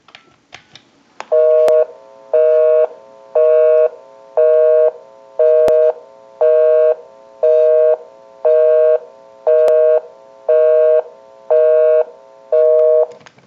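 Western Electric Princess telephone plays a loud, even string of about eleven touch-tone beeps, each a short steady tone with brief gaps between them, heard alone without talk.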